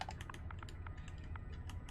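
Clicking keystrokes from typing with a HOTAS flight controller stick while playing Elite Dangerous, a quick irregular patter of soft clicks, close and fairly quiet.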